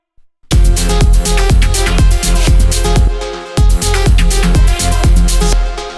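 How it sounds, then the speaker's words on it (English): A chopped vocal stab sample in melodic techno repeats in short rhythmic hits over a punchy kick and synth bed. It is loud and close after a brief silent start, with no talking. "we have this little vocal stab"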